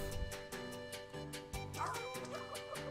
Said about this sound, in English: Ooh, it's our pets, the Pac Dog